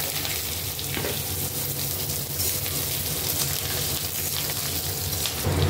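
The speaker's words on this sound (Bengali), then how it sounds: "এবার আমি কড়াইতে তেল দিলাম, আলু, পটল, সয়াবিন সব ভেজে নেব। আগে আমি আলুটা ভেজে তুলে নেব।" Potatoes frying in oil in a kadai for a vegetarian potato, pointed gourd and soybean curry, giving a steady, dense sizzle throughout with a few stirring scrapes and no talking.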